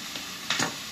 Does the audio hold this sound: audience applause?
no